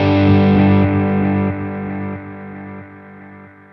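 Decaying repeats from a Sonicake Twiggy Blues multi-effects analog-style delay. Each echo of a guitar phrase steps down in volume and loses both its bass and treble, turning grainy and gritty as the tail fades over a few seconds.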